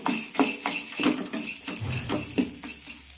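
Grated coconut roasting in a pan for radish sambar: a spoon scrapes and knocks against the pan in a steady rhythm of soft, close clatters, with a light dry sizzle underneath and no talking.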